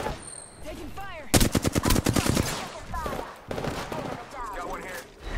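Gunfire in an Apex Legends match, a fast automatic burst of evenly spaced shots near the middle, with scattered shots before and after, under a player's voice talking.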